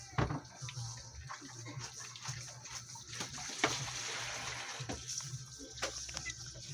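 Running water splashes steadily while dishes are washed, close and moderately quiet, with occasional clatter and a low background hum.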